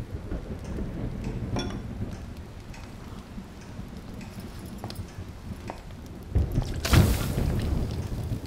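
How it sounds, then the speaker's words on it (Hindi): Steady rain falls throughout, with a rumble of thunder or a heavy gust swelling near the end, loud and close, with no voices. "नहीं, बारिश रुकेगी तब फिर से देखता हूँ।"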